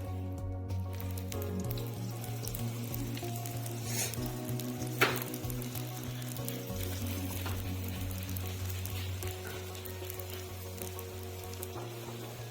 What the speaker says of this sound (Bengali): অল্প তেল দিয়ে বেজে নিব